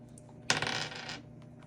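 A single die clatters onto a hard surface, one sharp hit followed by brief rattling that settles within about a second, close and fairly quiet.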